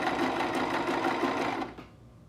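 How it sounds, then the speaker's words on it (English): Sewing machine stitching a scrunchie, a fast, even mechanical whirring and clatter heard close up that runs continuously before stopping abruptly near the end. "Then you're going to keep sewing."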